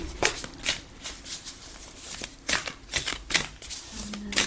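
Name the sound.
shuffling cards for a card reading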